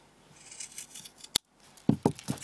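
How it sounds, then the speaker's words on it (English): Scissors snip through the loose ends of macramé cord on a hanger-mounted star made of square knots: one sharp close cut, then a brief silence and a few soft clipping and handling sounds. "I'm just going to trim those ends off."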